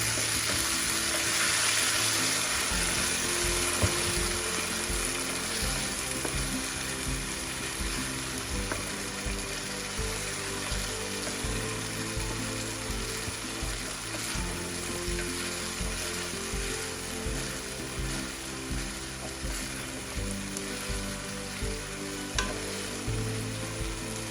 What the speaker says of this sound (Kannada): ಹಾಕೊಂಡು ಇದನ್ನು ನೀಟಾಗಿ ಒಂದು 2 ನಿಮಿಷ ಫ್ರೈ ಮಾಡ್ಕೊಳ್ಳೋಣ ಇದರಲ್ಲಿ